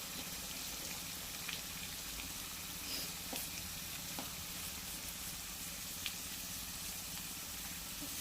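Chopped onions and paneer frying in a pan, a steady low sizzle running evenly throughout with a few faint clicks and no talking.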